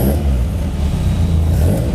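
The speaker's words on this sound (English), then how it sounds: "Gotta love a little bit of carb induction noise, haven't you?" A Hayabusa turbo engine in a road-legal cup car revs with a loud, close, throaty drone, its carburettor induction noise rasping over the deep, steady rumble.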